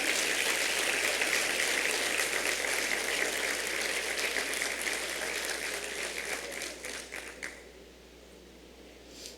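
A church congregation applauds, dense and steady clapping filling the room for about seven seconds before thinning to scattered claps and fading out.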